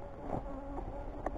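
Honeybees buzz continuously around a 33-frame horizontal hive box, a soft steady hum with a few closer bees passing by. No voices are heard.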